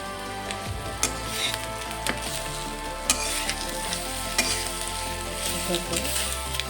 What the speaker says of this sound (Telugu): అలా సిమ్లోనే ఫ్రై చేయండి, బాగుంటుంది